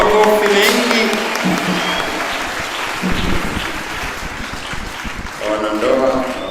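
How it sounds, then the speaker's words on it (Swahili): A church congregation claps during a Catholic Mass marking a parish's fiftieth anniversary, steady broad applause filling the space while a voice speaks over it at the start and again near the end. "Mshangilie Mungu kwa makofi mengi"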